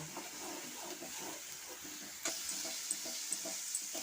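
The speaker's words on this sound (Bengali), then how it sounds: "এখন আমি মশলাটা ভালো করে কষিয়ে নেব" Spice masala of ground cumin and coriander sizzles in a pan as it is stirred and fried, a soft continuous hiss with faint scraping and a few brighter crackles, close and quiet.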